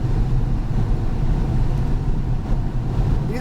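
A Nissan GT-R driven hard around a race track at Palm Beach International Speedway, its steady engine and road roar filling the cabin alone without voices, loud and continuous with wind noise.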